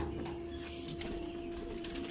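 A quick burst of fluttering wing flaps from a nearby pigeon, brief and soft over a steady low background hum.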